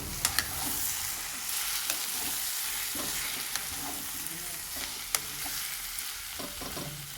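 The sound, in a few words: stirring chili powder and salt into curry in pan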